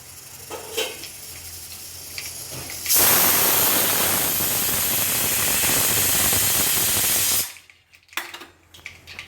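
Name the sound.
tadka tempering spluttering in hot oil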